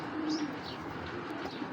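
Original Pakistani Gangchil pigeons coo softly and continuously at close range, with a low throaty murmur and a few faint chirps over a steady background hiss.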